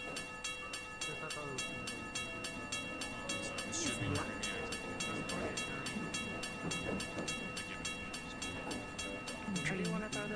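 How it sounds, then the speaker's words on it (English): A loud train signal sounds inside the VRChat video game, a steady, continuous tonal ringing that runs through all ten seconds with clattering rail noise and faint voices beneath it. "It's a train signal. It's going to be loud."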